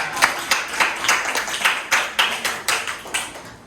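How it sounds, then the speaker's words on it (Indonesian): A small group in a classroom coaching session claps for a presenter, with loose, sharp claps at a brisk uneven rhythm, close and distinct, about a dozen bursts. "Kita berikan tepuk tangan dulu untuk Akbar."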